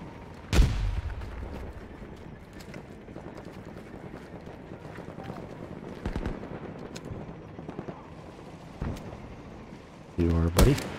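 Sharp rifle shots ring out in Battlefield 2042, a few separate loud cracks spaced several seconds apart over a low battlefield rumble, with a player's voice heard at times.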